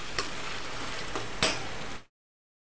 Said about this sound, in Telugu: మన ఆనియన్స్ అయితే ఎర్రగా ఫ్రై అయిపోయినాయండి